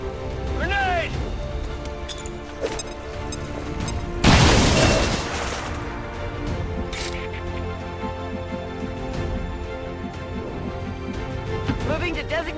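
A grenade going off in the strategy game XCOM 2: War of the Chosen, a single loud booming blast with a crackling burst that fades over a few seconds, set among game music and effects and followed by speech.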